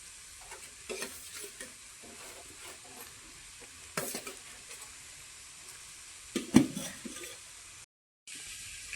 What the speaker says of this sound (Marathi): असा राईस टाकून घ्यायचा त्याच्यामध्ये. मग ते हलवून घ्यायचा